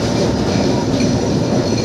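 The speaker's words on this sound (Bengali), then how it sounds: "সামনে দেখুন আমাদের ট্রাম চালক কেমনভাবে ট্রামটা চালাচ্ছে" Riding aboard a Kolkata tram between Tollygunge and Ballygunge, a loud steady rumble of wheels on rails fills the cabin, with dense low roar and no distinct pauses or voices.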